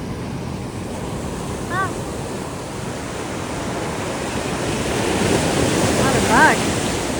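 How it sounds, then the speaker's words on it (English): Ocean surf washes steadily onto a sandy beach at Cambria on California's Central Coast, a broad continuous roar with wind buffeting the microphone, swelling louder toward the end; a person briefly exclaims. "That means the waves crash all the way up this far."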